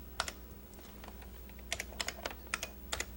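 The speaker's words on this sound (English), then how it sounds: "So you're using a standard AT keyboard plus your paint pad." Keys clatter on a standard AT computer keyboard in a mid-1980s setting, quiet irregular taps in short bursts with pauses between them and a low hum underneath.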